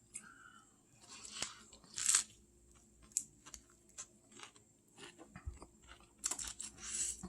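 Crunchy bites and chewing of a spring roll appetizer, several sharp crackling crunches spread across a quiet stretch, close and fairly soft with no talking.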